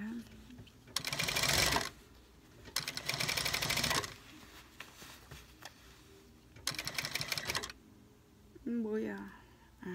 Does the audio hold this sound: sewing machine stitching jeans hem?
yes